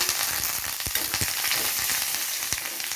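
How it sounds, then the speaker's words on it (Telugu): Fresh curry leaves hit hot oil for tomato chutney, a steady bright sizzle and crackle with a few sharp pops and spatters throughout, close and alone without voices. "ఇప్పుడు పచ్చి కరింపాకు కొంచెం వేస్తున్నాను"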